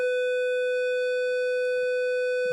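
A steady electronic alarm tone rings out from a Nortel Meridian 1 telephone set after a 911 call, loud and unbroken for the whole stretch, with faint background rumble beneath.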